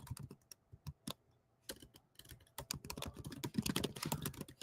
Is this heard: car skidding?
no